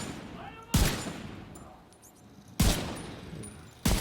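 Gunfire in The Division 2, three sharp loud shots or short bursts spaced a couple of seconds apart, each trailing off into a quieter background.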